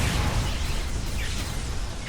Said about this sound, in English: we got a cook-off over here